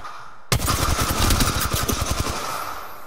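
Automatic weapon fire from Apex Legends bursts out after a brief quiet moment, a loud, close, rapid string of shots that rattles on for over two seconds.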